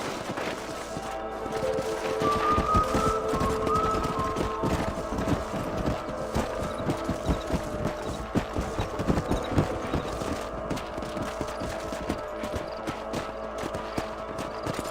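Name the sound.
horses' hooves clip-clopping in a video game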